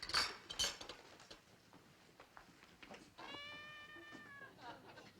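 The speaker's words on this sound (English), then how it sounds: "I think it's a cat." A cat trapped inside a wall gives a muffled, faint meow midway through, preceded by scattered clinks and rustling household noise at low level.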